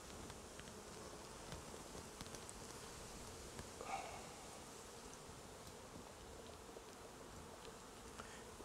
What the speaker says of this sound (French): On a des abeilles qui sont bien accrochées au cadre,